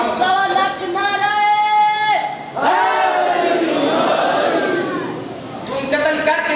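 Crowd at a Muharram majlis in an imambargah in Gojrah, Mandi Bahauddin, loudly chanting religious slogans in unison, several swelling rhythmic shouts following one another with little pause.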